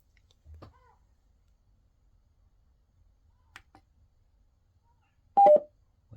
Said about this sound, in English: you will hear like a beep on the computer